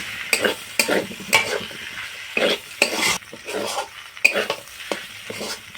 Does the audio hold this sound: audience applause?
no